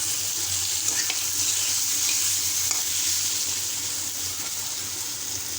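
Eggplant frying in a pan while being stirred, giving a steady, close, loud hiss and sizzle with faint scraping from the stirring throughout, and no talking.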